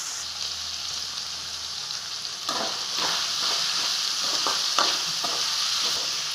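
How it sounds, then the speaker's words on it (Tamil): Tomatoes sauté with already cooked potatoes in a pan for Tamil-style potato rice: a continuous close sizzle, joined halfway through by rhythmic scraping stir strokes. "உருளைக்கிழங்கு நல்லா வெந்ததுக்கப்புறம் தாங்க தக்காளி சேர்க்கணும்."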